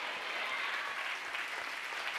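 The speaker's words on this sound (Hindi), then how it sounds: "बजा ताली खुदा के लिए, बजा ताली खुदा के लिए।" A congregation at a Christian prayer festival claps hands together in steady, dense applause that fills the hall evenly from start to finish.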